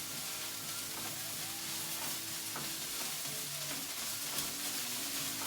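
Napa cabbage and bean sprouts stir-frying in a hot pan, a steady close sizzle with scraping stirs and crackles running throughout, no talking.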